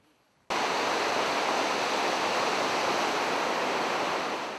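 A powerful river rushes through a deep valley, heard as a loud, dense, unbroken roar of water that begins abruptly after a short quiet moment and holds steady throughout.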